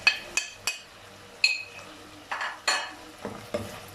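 Dry spices including chillies, cumin, garam masala and dried coriander are stirred and roasted in a pan over low heat for chicken biryani, with a series of sharp, separate scraping and clinking strokes over a faint sizzle.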